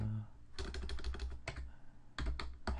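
Rapid bursts of keystrokes on a computer keyboard as a password is entered, clustered clicks with short pauses between groups, close and clear.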